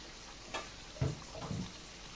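Pre-fried small chicken pieces being stirred in a pan for a roast, a few soft scraping and clattering pushes over a quiet sizzle, close and brief with no talk.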